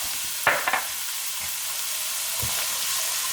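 Onions fry in a pan on medium-high heat with an even, close sizzle, broken by a few quick stirring clatters early on and one soft knock later.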